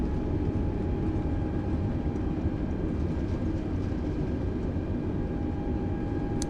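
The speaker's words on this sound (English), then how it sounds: "Reversers are opened." Airbus A320 thrust reversers deployed after landing at LaGuardia in Microsoft Flight Simulator: a steady, loud, broadband engine roar with a sustained low rumble and faint whining tones, holding constant throughout.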